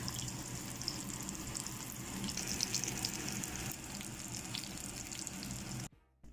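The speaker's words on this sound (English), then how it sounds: "So there they are, frying up." Perilla leaf pancakes with a fish filling fry in a pan, giving a steady, dense sizzle and crackle close up that runs on without talk before cutting out abruptly near the end.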